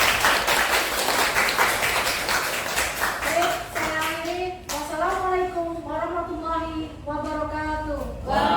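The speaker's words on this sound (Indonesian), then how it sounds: "Beri tepuk tangan." A school audience at SMP Negeri 1 Susukan claps in a dense burst that thins out, as a voice begins talking over the fading applause.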